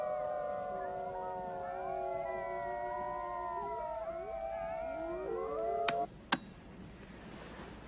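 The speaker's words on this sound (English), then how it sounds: "The alpha male, to me, has the most distinctive voice, where his halfway through the howl, he changes an octave." A white wolf, the pack's alpha male, howls in long sustained wavering notes that shift pitch by an octave partway through, other howls overlapping, followed by two sharp knocks.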